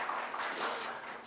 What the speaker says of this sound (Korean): 우리 잘 가시라고 박수로 환영하겠습니다